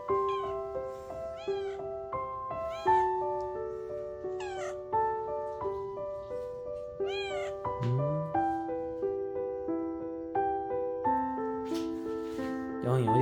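A kitten meows repeatedly in short, high cries over a steady background of melodic tones.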